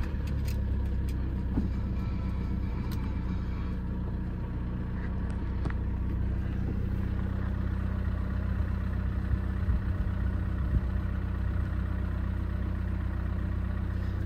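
A Seat Leon FR with a 2.0 TDI 185 PS diesel engine settles into a cold-start idle: a steady, close, even diesel rumble that holds for the whole stretch without voices.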